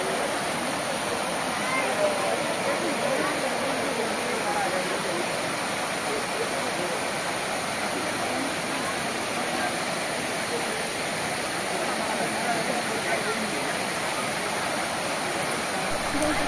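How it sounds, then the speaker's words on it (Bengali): Clear, cold water rushes beneath a living root bridge in Meghalaya, a loud, steady, close roar that never lets up. "একটু জলের আওয়াজ শুনে নাও"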